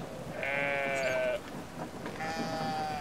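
Sheep bleat in the video game Brothers: A Tale of Two Sons, two wavering nasal calls close together over a quiet background, with no talk.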